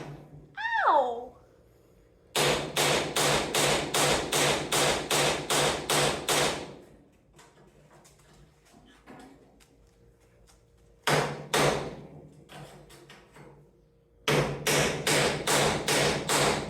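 A hammer pounds on a metal rivet to drive it out, giving loud close runs of rapid ringing metallic strikes separated by quieter pauses, with a brief vocal cry near the start.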